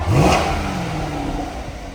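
A close 2017 Chevrolet Corvette convertible 1LT automatic engine blips up in one quick rev, then settles back into a steady idling rumble.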